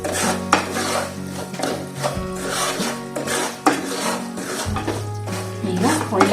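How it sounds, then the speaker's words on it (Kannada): A spoon scrapes and rasps steadily through 1 cup of chiroti rava semolina dry-roasting in a pan, with continuous stirring strokes and music playing underneath. "1 ಕಪ್ ಚಿರೋಟಿ ರವೆ ಹಾಕೋತಾ ಇದ್ದೀನಿ. ಒಳ್ಳೆ ಘಮ ಬರೋವರೆಗೂ ಹುರಿಬೇಕು."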